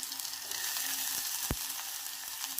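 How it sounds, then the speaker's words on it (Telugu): Ginger and vegetables fry in a hot pan with a steady, close sizzle and crackle, and a single sharp clink of a utensil partway through. "అల్లం వేసుకొని ఇలా ఫ్రై చేసుకోవాలి"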